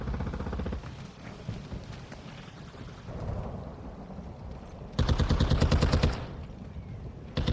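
Bursts of automatic gunfire in the Call of Duty Modern Warfare II shooter game, a dense rapid volley loudest near the end amid rumbling battle noise, with scattered shots earlier.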